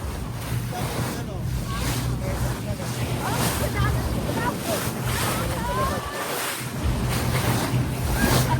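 Steady wash of rough sea waves and wind buffeting the microphone at Dubai Marina, with a boat engine droning underneath throughout.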